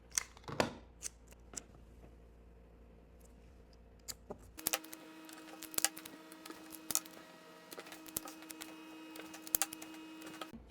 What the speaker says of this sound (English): And use our tape again.